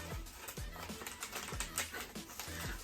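Leatherman Raptor rescue shears with a faulty handle cut through paper, giving a quick series of crisp, close snipping clicks with no talk.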